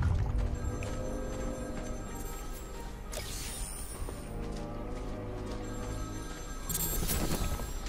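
A telephone rings in the Batman Arkham City video game, its ringing woven into a busy bed of game music and ambience that continues throughout.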